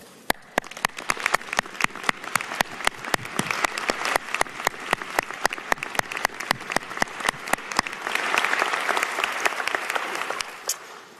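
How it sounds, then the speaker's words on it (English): Sustained audience applause at a medical school commencement ceremony, dense steady clapping from a large seated crowd that swells louder toward the end, no talking over it. "let's give them a round of applause."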